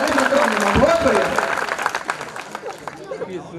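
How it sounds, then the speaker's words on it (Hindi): Applause from the audience at a Hindi kavi sammelan poetry gathering, a strong burst of clapping that gradually thins and fades, with a voice speaking over it toward the end. "थोड़ा जोरदार तालियां बजाओ"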